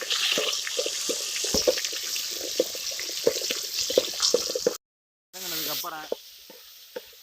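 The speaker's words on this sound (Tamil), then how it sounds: "நல்லா வெங்காயம் வதங்கி வந்ததுக்கப்புறம் வரமிளகாய் அப்படியே தக்காளி ரெண்டையும் சேர்த்து ஆட் பண்ண வேண்டியது." Onion, dried red chillies and tomato sautéing in a pan, a hissing sizzle with regular stirring clicks, then a brief silence followed by a burst of louder sputtering, heard up close without speech.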